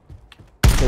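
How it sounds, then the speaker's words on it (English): Gunfire in Call of Duty: Warzone, a loud burst of shots striking the player that erupts suddenly after a few faint clicks and continues densely to the end. "someone's shooting me"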